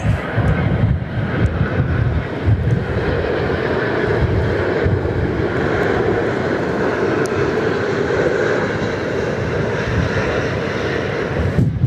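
An aircraft engine roars steadily at Perth Airport, a broad, loud, continuous rumble that holds without a break across the whole stretch.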